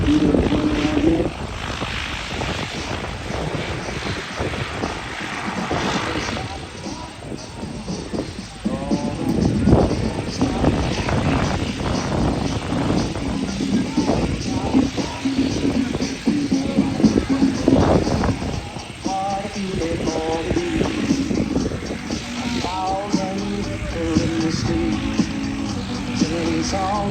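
A propeller plane taxis and turns at an airshow, its engine giving a constant rumbling drone. Crowd noise and a loudspeaker voice run underneath the whole time.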